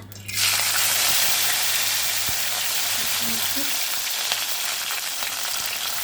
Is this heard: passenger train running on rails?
no